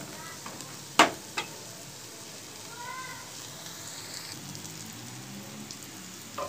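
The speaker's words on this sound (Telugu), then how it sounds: "ఇది కూడా వేయించుకోవాలి కొంచెం సేపు, బాగా టేస్ట్ ఉంటుంది ఉల్లిపాయ వేగడం వల్ల కూడా" Onions fry in a pan, a soft, even sizzle with light crackling under one sharp clatter of a utensil near the start. The sizzle is moderate and steady, with no talking.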